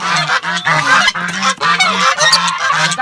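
Goslings on a farm honk loudly and continuously, a dense chorus of overlapping nasal calls close by with no pauses.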